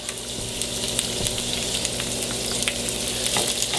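Four Korean beef kimchi egg rolls fry in a pan with a steady, close sizzle and light crackling pops, with no talking.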